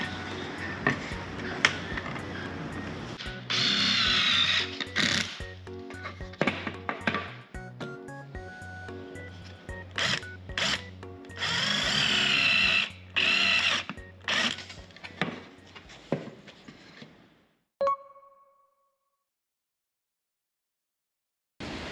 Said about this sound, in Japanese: ここからこう止めたいんですね、こうっていう感じでまず穴開けていきますね。